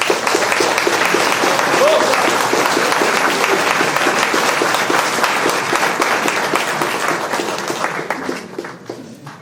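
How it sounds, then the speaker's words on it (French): Sustained, dense applause from a crowd at a political rally meeting in Montescot, loud and steady for about eight seconds before thinning out and fading at the end. "Donc merci Charles, il vaut vraiment le coup de l'applaudir 2 fois."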